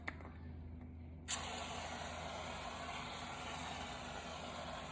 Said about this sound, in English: we're going to add some more whipped cream, but the spray kind